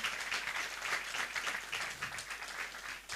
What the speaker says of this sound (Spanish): Vamos a aplaudir una vez más al coro Nueva Alegría.